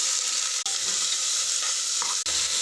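Onions frying in ghee for chicken biryani give a loud, dense, close sizzle with a couple of sharp clicks of stirring, with no voices.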